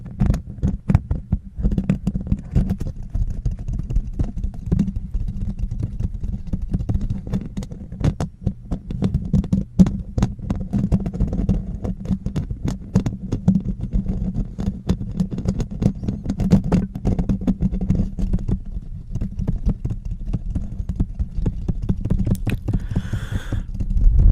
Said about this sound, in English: high gain, bassy, aggressive tapping and scratching the microphone with no wind beanie on it